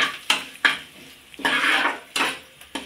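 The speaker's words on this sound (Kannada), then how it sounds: "ಈಗ ಇದಕ್ಕೆ ಕರಿಬೇವು ಹಾಕ್ತೇನೆ ನೋಡಿ ಕರಿಬೇವು ಯಾವ ಥರ ಕಿಳಿತದೆ ಚಟ್ ಚಟ್ ಅಂತೇಳಿ" Curry leaves crackle in hot oil for Bombay rava upma. Sharp bursts of sizzling and crackling come up close, mixed with the clink of a utensil against the pan.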